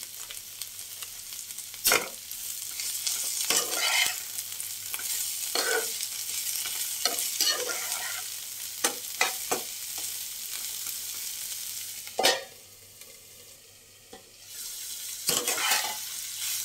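Vegetables stir-fried in a pan for egg chowmein, a steady close sizzle broken by repeated sharp scraping and clacking strokes of a spatula, with a few louder knocks and no talking.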